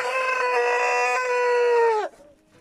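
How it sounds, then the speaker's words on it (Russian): A rooster of the Columbian Brahma or Orlov chicken breed crows once, loud and near on a farm, a sustained harmonic call lasting about two seconds that ends abruptly, followed by faint background sounds. "Два петуха."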